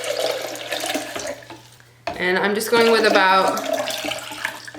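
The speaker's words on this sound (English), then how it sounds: "All right, so I'm adding my water," Tap water pouring steadily into a blender for homemade oat milk, a continuous splashing rush beneath a person talking nearby.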